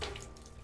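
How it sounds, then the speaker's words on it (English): A faucet runs steadily in the video game Deponia Doomsday, a continuous hiss of flowing water heard alone and fairly close. "A well-functioning faucet."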